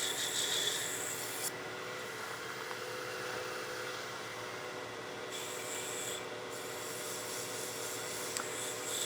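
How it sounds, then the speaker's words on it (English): Sandpaper rubs against the edge of a turned wooden gnome hat spinning on a lathe, a soft, steady rasping hiss with a faint motor hum beneath, quiet and continuous with no speech. "I'm going to sand just the edge of the hat because I don't want a sharp edge on the hat"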